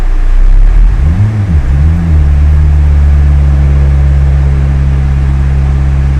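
A turbocharged K24-engined Honda Civic runs on a dyno, rising through a couple of revs before settling into a loud, steady, low drone under constant throttle, with the dyno fan running.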